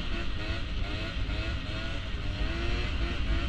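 Scooter engine revving hard and steadily throughout a wheelie, a loud continuous buzzing drone with no pauses and no talking.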